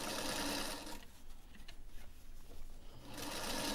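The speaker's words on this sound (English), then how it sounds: "I'm going to sew across on that line, making sure that all this is nice and smooth" A sewing machine stitches across a line on recycled denim jeans in a continuous close whir. It is loud at the start, dips quieter in the middle and then rises again near the end.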